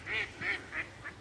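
Four nasal duck quacks, fairly close and evenly spaced, with short pauses between them and no talk.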